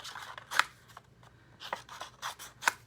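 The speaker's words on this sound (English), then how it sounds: "I'm just going to cut a little bit bigger than the window" Scissors snip through paper, trimming a sentiment for a handmade card; several quiet, crisp cuts come in small irregular clusters with short pauses between them, and no one speaks.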